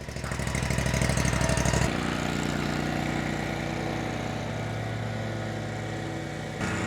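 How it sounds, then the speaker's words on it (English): A lawn mower engine drones steadily at close range, roaring louder for the first two seconds and then settling into a constant hum. "I didn't know Deb was going to mow so soon."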